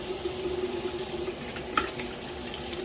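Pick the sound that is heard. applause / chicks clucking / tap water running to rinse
tap water running to rinse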